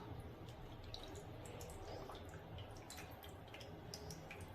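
Excess water dripping and trickling off freshly formed homemade paper pulp, a soft, steady patter of small drops that continues without pause throughout.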